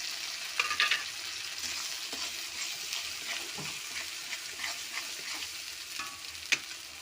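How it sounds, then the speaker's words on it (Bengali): A ground paste of green chili, ginger, garlic, onion and white mustard fries with tomatoes in a pan, a soft sizzle with occasional spoon scrapes and clinks. "মশলাটা ভেজে নিয়ে তারপর সব মশলা দেবো"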